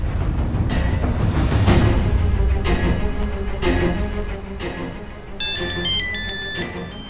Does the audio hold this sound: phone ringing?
yes